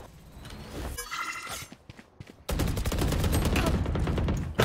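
Rapid, evenly spaced Vandal rifle shots from the video game Valorant, played in a ranked match, rattle out loud and close as a sustained burst after a shorter, scattered volley.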